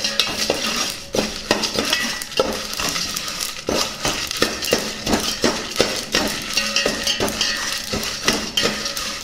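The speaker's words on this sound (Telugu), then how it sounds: "ఇందులోనే ఎండుమిర్చి కూడా వేసేసుకుందాం. దీన్ని బాగా వేయించుకుందాం." Urad dal and dried red chillies frying in a pan, with a spatula clinking and scraping steadily against the metal over a constant sizzle, loud and close, no voices.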